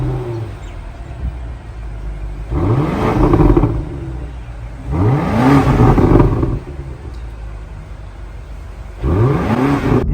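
A BMW XM plug-in hybrid's 4.4-litre V8 revs hard three times in bursts, each rising and falling pitch sweep heard loud from outside the car, with quieter idle between.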